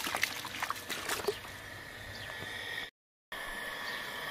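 Water runs from a small tap on a machine in a steady, gentle trickling stream, with a few splashy bursts at the start and a brief dropout partway through.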